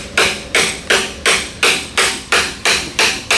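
A rubber hammer strikes a part of a military-surplus four-cylinder generator engine: nine close, loud, evenly spaced blows about a third of a second apart.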